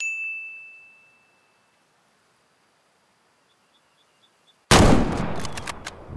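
A single rifle shot fired at a chamois in the hunting game Way of the Hunter, a sudden loud crack after near silence and a fading ding, followed by a rolling echo tail.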